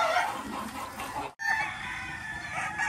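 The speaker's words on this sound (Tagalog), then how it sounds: "Dito na ibang manok natin" Chickens and a rooster at a coop, with clucking and crowing calls carrying over a steady hiss of rain, a brief gap midway, no talking.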